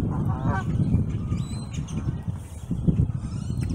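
A goose honks loudly and close by at a zoo, giving a few harsh, nasal calls over low rumbling background noise.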